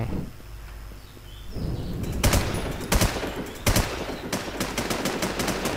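Rapid gunfire from the online survival shooter WarZ, with several sharp, loud shot bursts cracking out in an irregular rhythm over a rumbling game background.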